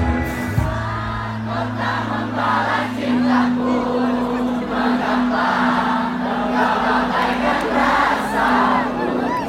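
Concert crowd at a band show in Pariaman cheers and shouts continuously, a dense wash of voices with some clapping over a low sustained tone from the stage sound system.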